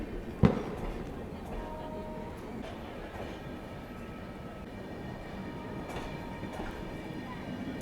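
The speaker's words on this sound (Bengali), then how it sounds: "এই মুহূর্তে আমার ট্রেন ঢুকছে প্ল্যাটফর্ম নাম্বার 8-এ" A Puri–Shalimar passenger train pulls into platform 8 at night, a steady low rumble of rolling wagons with a sharp bang near the start and faint station noise behind.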